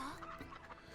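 Ducks from the video game Gravity Rush 2 give a faint, brief quacking call, quiet and a little muffled, with no talking.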